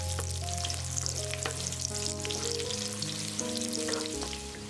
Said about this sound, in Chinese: 锅烧热后，放入花生油，下蒜片、姜片爆香